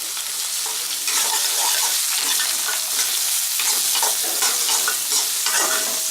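Finely chopped onions sizzle loudly in a hot oiled pan, a dense, constant hiss with bursts of crackle and stirring, close up and uninterrupted by voices.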